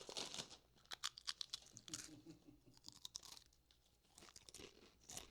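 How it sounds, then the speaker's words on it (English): Flaming hot nacho-flavoured tortilla chips crunched between the teeth, a run of sharp, close, loud crisp bites and chewing crackles in uneven bursts with no talk. "Let's see if we have the crunch sound."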